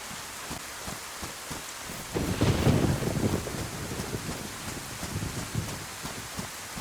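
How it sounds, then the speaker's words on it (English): Steady rain falls in the video game DayZ, with gusts of wind buffeting the scene and a low rumble swelling midway like distant thunder, with no one speaking. "the rain will probably mask the noise"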